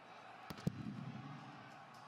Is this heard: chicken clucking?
no